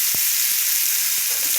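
Prawns coated in salt and turmeric fry in a pan over a low flame, giving a steady, close sizzle throughout with a few soft stirring knocks.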